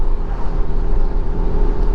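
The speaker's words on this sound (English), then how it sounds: "this truck in front of us is kind of noisy" Steady low engine drone and road rumble from a truck driving just ahead on the road, heard continuously from inside a following car with no talk.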